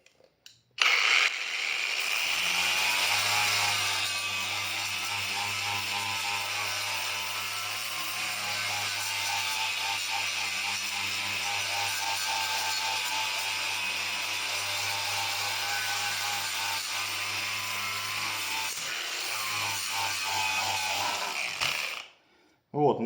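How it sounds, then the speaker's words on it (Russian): A YUANSEN YSJM-A2 six-speed cordless angle grinder with a 6Ah battery does plain grinding, a loud, steady motor whine with a grinding rasp that holds evenly for about twenty seconds before cutting off abruptly. "видели, как работает нормальное шлифование"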